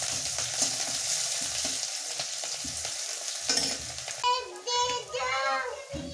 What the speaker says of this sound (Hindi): तो तेल यहाँ पे हो गया है मेरा, इसमें डाल दूंगी जीरा और प्याज एक साथ ही।